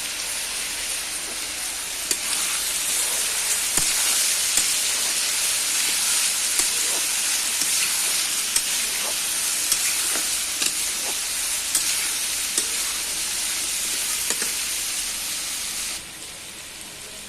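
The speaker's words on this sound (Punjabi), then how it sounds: "ਲਾਲ ਮਿਰਚ ਗਰਮ ਮਸਾਲਾ ਮਸਾਲਿਆਂ ਨੂੰ ਚੰਗੀ ਤਰ੍ਹਾਂ ਮਿਕਸ ਕਰ ਲਾਂਗੇ" Potato sabzi frying in a pan as salt, red chili and garam masala are stirred in: a steady sizzling hiss broken by regular light scrapes and clicks of the spoon, close and continuous, with no talking.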